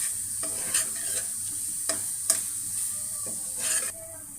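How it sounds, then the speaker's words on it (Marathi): Spiced potato filling for mirchi vada being stirred in a pan, a steady scraping and stirring with soft sizzling and a few louder clacks of the spoon, close and alone without speech. "मिक्स करून ह्याच्यामध्येच मी बटाटे टाकून घेते"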